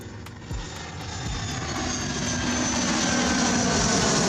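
An airplane drones steadily overhead as a loud continuous engine roar that builds slightly and then holds, with no voices.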